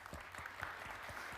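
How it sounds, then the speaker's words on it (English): Applause at a conference opening welcomes the speaker, a thin scattering of claps with distinct individual hand strikes, faint and steady over a quiet room. "So let's give him a big hand of applause."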